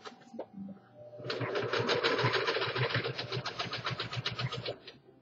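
A sewing machine stitching through three layers of fabric, a fast steady run of needle clatter with a motor hum, starting after a brief pause and continuing at close range.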